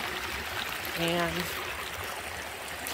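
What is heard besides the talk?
water running in a garden water feature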